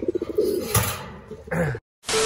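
Soft, low cooing of racing pigeons repeats over the first half, followed by a brief rustle and a gap, then a burst of broadband noise.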